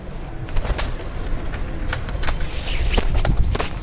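Pigeons give soft cooing calls over constant outdoor background noise, with scattered sharp chirps and rustles throughout.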